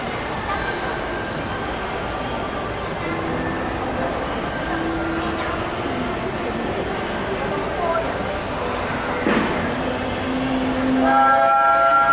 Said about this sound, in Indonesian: Ada kereta api nak lalulah, kita bagi laluan kepada kereta api dululah.